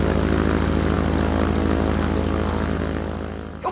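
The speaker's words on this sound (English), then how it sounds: "What's that sputtering? That'll be the engine." Vintage propeller aircraft engine in flight, a loud continuous drone with a fast pulsing rhythm that fades slightly toward the end.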